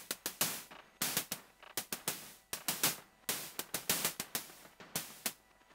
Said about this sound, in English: I'm just feeding the white noise through the micro VCF filter from IntelliGel